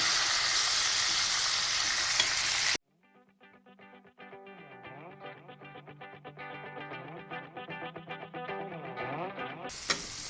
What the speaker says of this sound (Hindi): अब ये हमने मसाला पहले से निकाल के रखा हुआ जो हम इसमें ऐड करेंगे और भूनने देंगे